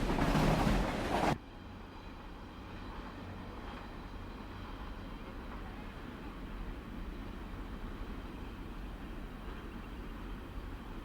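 A CSX northbound freight train passes on the line between Atlanta and Chattanooga, near the junction with the Knoxville line. A loud rush at the start gives way to a steady, continuous rumble with no voices.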